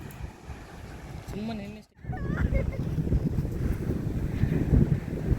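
Wind buffets the microphone on a beach by the sea near Mangalore, a gusty low roar that briefly drops away and then returns stronger, with a faint bird call and a few voices early on.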